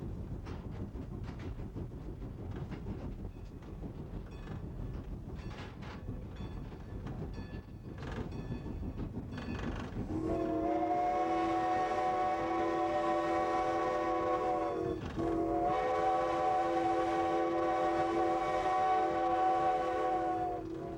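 A historic steam locomotive on the Strasburg Railroad rumbles and chuffs with clanking rail noise, then a loud, steady multi-tone whistle sounds for several seconds, breaks briefly, and resumes.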